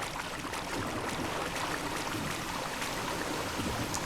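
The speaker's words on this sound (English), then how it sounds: "So you can hear that water." Steady rushing water, like a stream or fountain, in the video game DrainSim, fills the whole stretch continuously with no voices.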